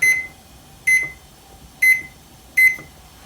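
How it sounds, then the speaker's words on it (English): Four short, high electronic beeps from an oven timer being set, evenly spaced about a second apart, clear against a quiet background. "We're gonna set a timer for about 10 minutes."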